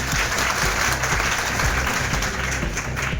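A brief, loud burst of crowd applause greets the guests on stage at a two-day district training workshop for boatmen.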